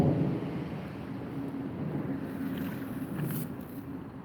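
A rain storm outdoors makes a steady, broad wash of rainfall, with a low rumble running underneath it throughout.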